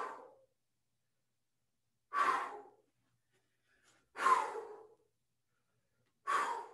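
Heavy breathing from a person exercising during a live strength workout: four slow, separate exhalations spaced a couple of seconds apart, close and clear against silence.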